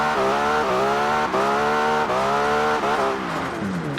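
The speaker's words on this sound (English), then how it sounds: "Let's warm them back tyres up." Rear tyres of a car spin to warm up in Forza Horizon 4 beside a motorway, a loud, steady engine rev with tyre squeal that holds for several seconds and shifts pitch a few times.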